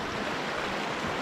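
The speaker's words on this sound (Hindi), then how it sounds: "वाटर स्ट्रीम जो है वो बिल्कुल मेरे सामने से जा रही है" A clear mountain stream rushes beside a hiking trail in the Nanga Parbat forest, a close, steady broadband flowing roar with no voices.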